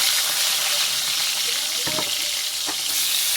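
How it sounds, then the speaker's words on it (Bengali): Loud, dense sizzling of fish heads frying in hot oil fills the short stretch, with a couple of brief clatters partway through. "তেলটাও গরম হয়ে গেছে, মাছের মাথাগুলো ভালো করে ভেজে নিই।"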